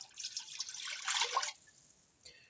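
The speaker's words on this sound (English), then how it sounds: "I'm also going to add 2 cups of water to the broth." Water pours into a pot of broth with a bright splashing trickle lasting about a second and a half, close and moderately loud, then settles to a faint drip.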